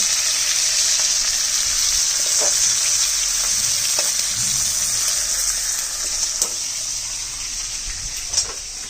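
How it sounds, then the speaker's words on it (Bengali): Fish frying in a pan in a home kitchen, ahead of being cooked into a light curry with potatoes, makes a steady close hiss and sizzle with occasional sharp pops and spatters. "মাছটা ভাজা হচ্ছে এরকম কীরকম ফুটছে"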